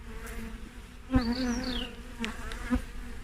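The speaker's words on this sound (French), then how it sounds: "les abeilles viennent de la ruche" Honeybees buzz around an open hive during a brood check, with a close, wavering drone and several individual bees sweeping past near the listener, their pitch rising and falling against a softer hum of the colony.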